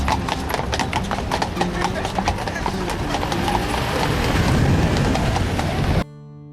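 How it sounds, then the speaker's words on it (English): Horse carriage hooves clip-clop on the cobbled streets of Kraków's old town, a steady close rhythm amid street bustle and voices, ending abruptly. "You can take a horse carriage ride here."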